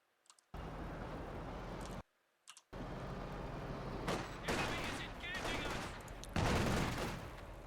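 Bursts of gunfire and machine-gun clatter from Company of Heroes 2 battle, loud overlapping shots and impacts after brief silent gaps, dense rapid volleys later.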